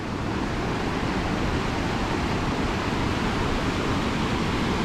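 Powerful rushing water roars as a continuous, dense, broadband wash, loud and close with no pauses and no voices over it.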